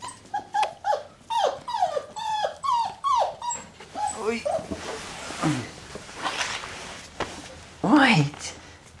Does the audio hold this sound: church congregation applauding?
no